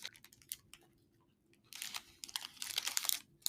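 Crunchy Clif Builders protein bar with soy crisps, bitten and chewed close to the mic, producing bursts of crisp crackling crunches with short pauses between them.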